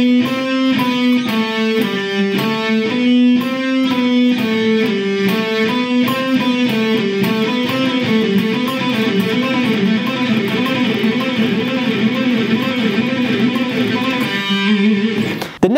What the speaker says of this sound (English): So watch for these motions in my picking hand as I play this for you slow.